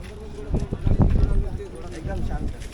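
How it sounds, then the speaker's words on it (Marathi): Horse hooves clip-clop on the ground at a rural horse market in Yevla, a few uneven nearby steps heard beneath steady chatter and voices from the crowd. "घोडा छान आहे"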